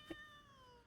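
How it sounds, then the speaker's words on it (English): Faint, short cat meow heard once at a distance, over a quiet background of steady electronic tones. "Cat."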